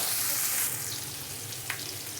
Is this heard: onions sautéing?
yes